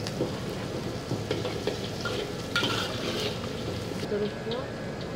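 Onion and chili padi stir-fry in a wok for a spicy sardine fried rice, a close steady sizzle broken by clinks and scrapes of the utensil against the pan, with a voice speaking over it.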